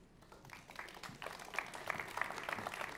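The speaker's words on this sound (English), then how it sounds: "Give him a big round of applause." An audience at a fintech conference applauds a keynote speaker, with a soft, fairly distant patter of clapping that builds slightly over a few seconds.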